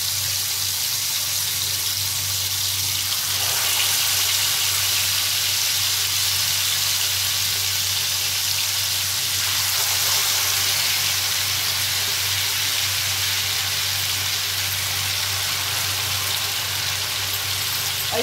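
Chicken pieces fry in hot ghee in a Kolkata-style chicken chap preparation, giving a steady, dense sizzle that stays loud and even throughout, with no talking.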